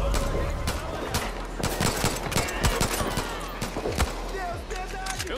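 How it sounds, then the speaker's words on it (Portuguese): Rapid bursts of automatic gunfire crackle through a busy Far Cry New Dawn game soundscape, sharp shots scattered across several seconds with a voice briefly mixed in. "Eu ouço disparos."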